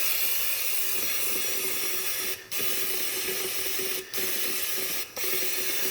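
An air compressor spray gun lays a light coat of paint on off-road gear, giving a loud, steady close hiss that cuts off briefly three times as the trigger is released.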